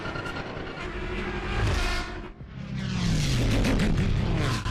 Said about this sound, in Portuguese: os sons das corridas de pods lembram carros de Fórmula 1 dos anos 90, Mustangs antigos, Porsches de corrida e até caminhões a diesel